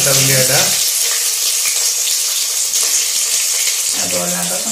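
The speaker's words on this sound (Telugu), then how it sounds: "నూనె వేడైందా? అవన్నీ వేస్తాను. ఇప్పుడైతే పచ్చిమిర్చి వేస్తుంది" Green chillies hit hot oil in a pan and sizzle with a loud, bright, steady hiss that fills the whole stretch, while a voice speaks briefly at the start and end.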